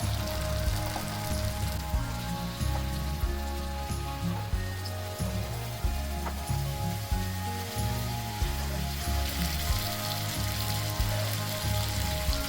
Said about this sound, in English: I'm gonna add prawns into the masala